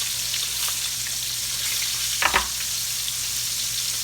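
Onion rings deep fry in hot oil with a steady, close, hissing sizzle and a brief louder bubbling burst partway through.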